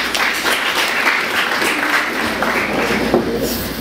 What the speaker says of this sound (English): Can we give the Lord a clap of praise?